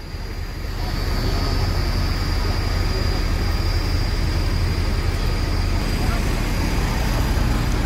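Al Hijrah tronton buses with premium chassis pull away on the Padang route, a loud continuous engine and road roar swelling after the first second, with people talking faintly underneath.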